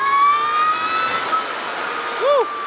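An Energica Eva electric motorcycle lets out a high-pitched whine that rises and holds steady as it accelerates, with a brief swooping tone near the end and a voice over the ride.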